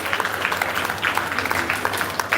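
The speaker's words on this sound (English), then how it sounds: "Let's give them a round of applause." Applause at a graduation ceremony for Maranatha Basic School: dense, steady clapping from a large crowd, holding at an even level for a couple of seconds with no voices over it.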